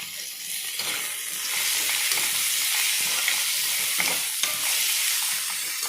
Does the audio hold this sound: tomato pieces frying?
yes